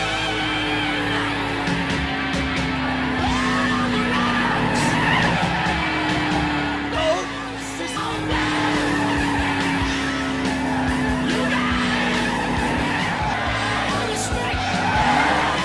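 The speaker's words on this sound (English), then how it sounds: "A continuous drift scene." A car from The Dukes of Hazzard film holds a long continuous drift, its tires squealing in a sustained, wavering screech over a loud engine roar, with busy action-scene noise around it and no talk.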